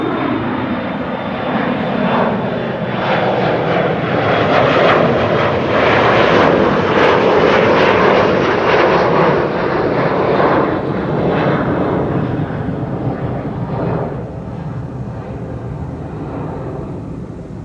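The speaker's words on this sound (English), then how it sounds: "Another Chinese A350." Chinese airline Airbus A350 at Amsterdam Schiphol Airport, its jet engines giving a loud, steady roar that swells toward the middle and eases slightly near the end, heard alone with no voices.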